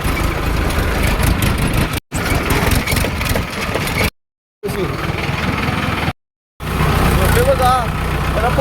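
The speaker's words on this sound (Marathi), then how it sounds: "सोडले बघा ट्रॅक्टर, आता घेऊन चालतोय" A tractor engine runs with a steady, loud, rumbling drone heard up close, broken by brief gaps, while people talk over it.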